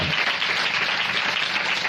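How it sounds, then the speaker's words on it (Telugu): A church congregation at a Pentecostal ministry clapping loudly, a dense, continuous burst of many hands that stays steady and close throughout. "గట్టిగా చప్పట్లు కొట్టి ప్రభుని ఆయన కోరిక"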